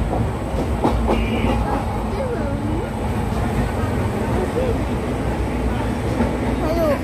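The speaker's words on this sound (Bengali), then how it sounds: "এটা হচ্ছে Howrah Puri weekly special train" The Howrah–Puri weekly special passenger train, heard from inside a carriage just after leaving Howrah, rumbles along with a steady, close, rhythmic clatter of wheels over rail joints. Passengers' voices murmur faintly underneath.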